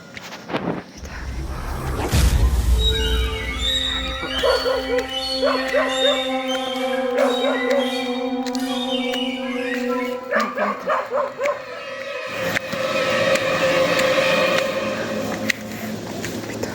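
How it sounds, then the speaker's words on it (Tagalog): A dog barks repeatedly at a campsite at night, sharp yaps ringing out close over steady background hum, with people talking in between. "Bakit may aso?"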